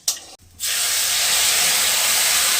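Dry red chillies, bay leaf and five-spice hit hot oil with a short thump, then burst into a loud, steady, close sizzling hiss.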